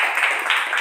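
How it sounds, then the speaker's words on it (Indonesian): A short burst of applause from a small group of students in a classroom, dense overlapping claps heard up close for under a second. "Tepuk tangan dulu."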